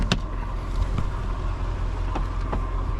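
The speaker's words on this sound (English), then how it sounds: "You guys can kind of hear the motor running." A 1998 Mercedes-Benz CLK 5.8 Brabus engine idles with a steady low rumble heard from near the open engine bay, with a few faint clicks over the constant hum.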